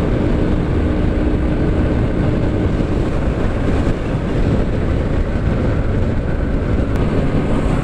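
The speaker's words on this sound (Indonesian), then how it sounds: "Motor ni terasa macam berat je bila kita buka throttle kan." A Modenas Pulsar NS160 motorcycle engine pulls under throttle during a test ride, a steady loud drone mixed with heavy wind rush that holds without a break.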